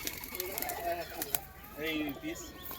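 A male Golden Kasuri pigeon coos in low, rolling bursts, close by, with people talking over it.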